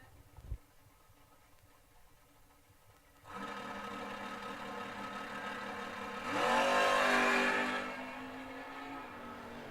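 Door-car drag racing with a 67 Camaro and a Nova: a loud engine drone kicks in and holds steady, then swells into a higher rising whine as a car accelerates, before settling back to a sustained roar.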